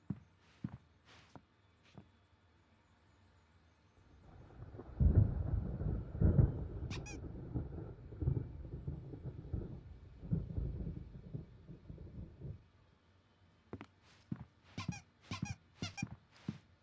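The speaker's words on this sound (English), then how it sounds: "There's a storm coming. Oh, what a storm." Thunder from a storm in the video game Alan Wake: a deep rolling rumble swells up, lingers for several seconds and fades, with faint squeaks and light knocks before and after.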